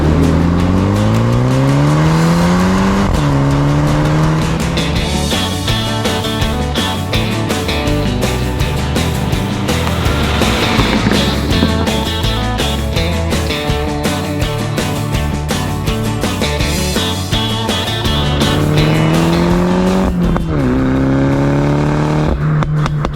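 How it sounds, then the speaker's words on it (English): A MINI John Cooper Works, 2022 and 2019 models, driven hard on winding back roads, its exhaust loud and close as the engine revs rise and fall through gear changes with crackles on lift-off, no talking. "experience the amazing sounding exhaust on these crazy back roads"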